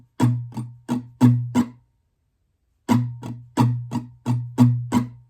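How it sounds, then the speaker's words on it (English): An acoustic guitar plays strumming pattern 1 for a song, with five quick percussive strums, a short gap, then seven more in an even rhythm, close and alone. "So looking at pattern number 1, it should sound like this."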